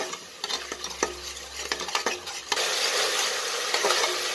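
Spice paste mixed with yogurt frying over ginger and garlic for a jackfruit and prawn biryani, with repeated scraping stirs and utensil clinks, then a louder, steady sizzle surging up as the paste hits the pan.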